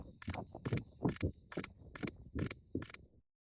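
A camera shutter fires seven times in a rapid, evenly spaced burst during focus bracketing, each crisp mechanical click-clack close and distinct, then silence.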